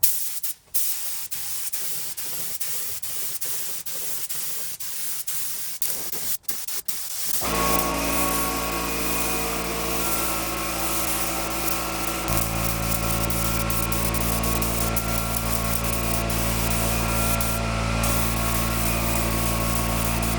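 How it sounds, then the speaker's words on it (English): Steady, loud hiss of an LP spray gun laying down epoxy primer on a bare-metal car body, running continuously after a few seconds of softer rustling and clicks. "that was so nice to spray. That epoxy laid down so good. That LP gun killed it."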